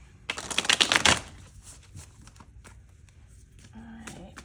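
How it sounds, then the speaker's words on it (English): A deck of tarot cards shuffled by hand, a quick riffling burst of papery flutter followed by lighter taps and card handling, close and clear. "I'm being told to shuffle again. Okay, fine, will do."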